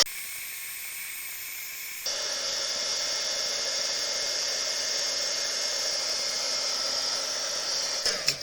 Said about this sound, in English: Then let's set that with the heat tool.